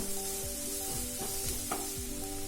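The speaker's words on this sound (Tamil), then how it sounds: "இப்போ இதில் 2 வெங்காயம் சின்னதாக கட் பண்ணி வச்சுருக்கேன், அது சேர்க்கலாம். வெங்காயம் கொஞ்சம் நேரம் வதங்கட்டும்" Chopped onions sauté in a pan for a soya chunks gravy, giving a steady close sizzle with faint stirring scrapes and a few tonal hums, with no talk.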